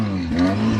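A Chevy Nova engine revs up loudly and close by, a rising harmonic drone that swells briefly in a short burst.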